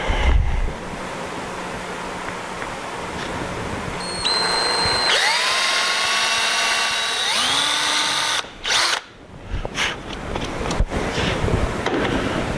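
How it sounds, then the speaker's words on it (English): A power drill whirs up and runs at a steady high pitch, changing speed as it bites, then stops abruptly and clatters briefly against a windy background. "We're going to drill our holes."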